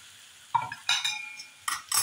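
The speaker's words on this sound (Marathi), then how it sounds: "पोहे चमच्यानीच मी ढवळते आहे" Soaked poha for a Kakadi Pohe offering, stirred gently with a spoon: a few soft separate scrapes and clinks at an unhurried pace, close by, with no voices.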